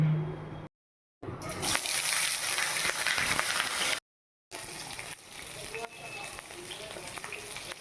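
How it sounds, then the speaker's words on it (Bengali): Eggplant frying in hot oil with turmeric for a hilsa fish head sour curry, a broad steady sizzle with brief gaps where it drops out. "একটু হলুদ দিয়ে বেগুনটাকে ভেজে নেব"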